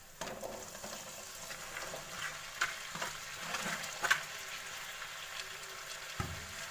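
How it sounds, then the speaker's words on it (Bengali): Vegetables for a Bengali wedding-style mixed vegetable dish go into hot oil, a steady low sizzle with a few soft clatters and stirring knocks from the pan, heard up close and fairly quiet, with no voices. "তো এখন আমি আমার সবজিগুলো দিয়ে দিচ্ছি।"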